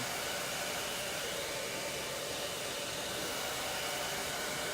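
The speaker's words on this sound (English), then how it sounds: "Being very gentle with the blow dryer, gentle with the hair" A blow dryer drying long hair runs as a steady, loud, even whoosh of airflow that holds for the whole stretch without a break.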